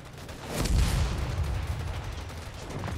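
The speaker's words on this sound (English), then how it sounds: "Artillery coming in." Artillery fire in the Company of Heroes 3 war game, during the Italy campaign. A deep, rumbling boom swells early and then lingers as a broad, noisy roar with a crackling top end.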